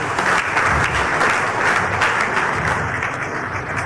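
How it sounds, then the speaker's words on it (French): A loud, steady burst of church congregation applause, dense clapping from many hands filling the space without a break, no voices above it. "On peut encore applaudir une fois notre frère."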